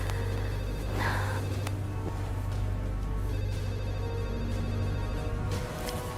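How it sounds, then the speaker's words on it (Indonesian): A telephone rings in a home over a low steady hum, the ring tones repeating in even bursts throughout with no talk over them. "Mas, ada telepon."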